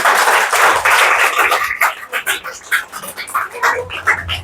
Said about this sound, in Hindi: ताली हो जाए इसके ऊपर एक